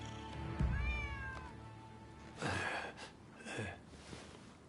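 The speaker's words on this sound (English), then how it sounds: "Who'd have thought a stray cat would wander in?" A stray cat in the video game Rise of the Ronin meows a few times, first with a drawn-out wavering cry and then shorter meows, fairly close and clear over a quiet background.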